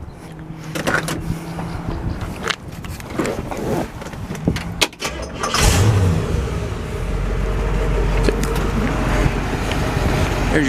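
A 1966 Chevrolet Malibu Sport Coupe with factory power steering and air conditioning cranks briefly after some clunks and handling noises, then fires and settles into a steady, fairly loud low idle that runs to the end, with no talking.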